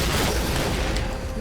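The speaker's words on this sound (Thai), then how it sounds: "เฮ้ยระเบิด" Explosion in the first-person shooter game Point Blank, a broad, dense blast of noise with a rumbling low end that holds for over a second and then tails off slightly, loud and close with no talk over it.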